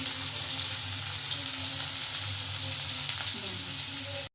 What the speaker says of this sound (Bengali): এবার দিয়ে দিলাম